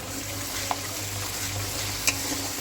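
Soaked asafoetida goes into hot oil in a pan for a pointed gourd and prawn dish, setting off a steady close sizzle with a couple of light utensil taps as it is stirred briefly.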